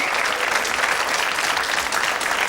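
A 1987 model contest audience applauds 20-year-old contestant Siobhan Clark from Belfast, a dense, continuous wash of clapping from many hands, fairly loud and unbroken, with no voices on top.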